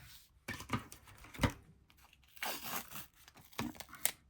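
Tape torn from a roll while assembling a cozy cottage-themed junk journal, a few short ripping and crinkling bursts with brief pauses between, close and fairly quiet, no talking.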